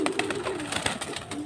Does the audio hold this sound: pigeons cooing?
yes